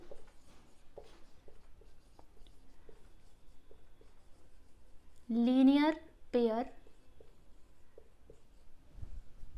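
A pen scratches out faint, intermittent strokes while writing maths working, and a voice briefly speaks partway through.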